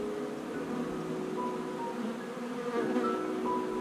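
Honeybees buzz around a beer-can top bar hive outdoors, a steady, dense hum of many insects near the microphone running throughout with no talking.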